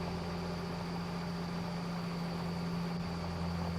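Steady, low tractor engine idle in the Farming Simulator 25 video game, a continuous faint hum with a constant droning tone and no change in rhythm.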